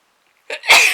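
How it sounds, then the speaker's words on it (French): A single human sneeze, close and sharp, starts with a short breathy intake and bursts into a loud explosive release, heard alone after a moment of near silence. "Voilà, j'ai éternué."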